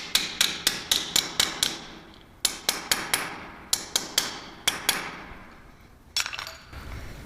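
A metal striker plate is hammered flat with sharp ringing blows in quick bursts of four to six strikes, each leaving a brief metallic ring, with pauses between bursts, close and alone.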